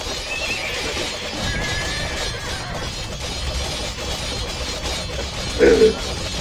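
A horse neighs in a video game battle of the historic Honfoglalás scenario: a brief whinny near the end rises above a steady wash of battle noise, faint clip-clop and ambient game sound.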